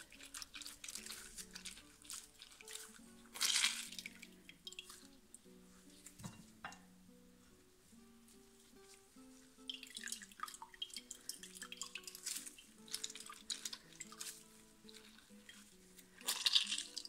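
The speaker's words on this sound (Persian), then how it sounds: "آب لیموی تازه رو می‌ریزیم" Fresh lemon juice is poured onto onion juice in a home kitchen. Faint trickles and drips come in a few brief bursts, separated by quiet stretches, over soft background music.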